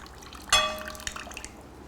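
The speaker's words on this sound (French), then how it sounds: "je vais égoutter les nouilles de riz dans un saladier" Cooked rice noodles are drained into a salad bowl: a sudden near splash of water at the start, then a trailing pour with a few scattered drips and clinks of a bowl, with no voices.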